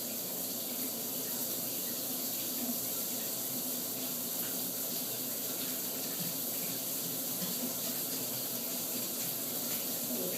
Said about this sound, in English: Let's see what happens when I try to take a shower.